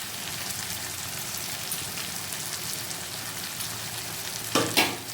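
Chicken sautéing with fried onions for biryani sizzles steadily and evenly in the pan, then a pair of louder stirring scrapes comes near the end.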